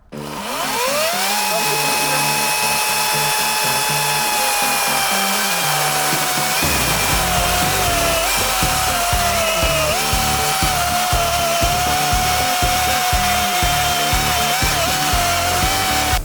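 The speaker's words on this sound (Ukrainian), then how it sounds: "дерево е, не трухляве, воно таке напіввологе, е, напівсухе, і пилка реально з ним справляється" A cordless FGT FCS14 chainsaw whines loudly and continuously, its motor pitch dipping and wavering as it bites steadily through half-damp wood, close by and unbroken.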